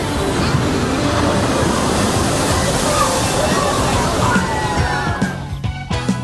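Rushing water splashes steadily on the Splash Mountain log flume ride at Magic Kingdom, a broad continuous slosh and pour that dips briefly near the end, with a voice talking over it.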